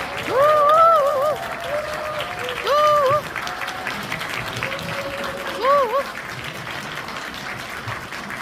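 Audience applause at a stage greeting for the Korean film 승부 in a cinema, a steady broad clatter of clapping with bright tonal calls and voices rising over it in short bursts.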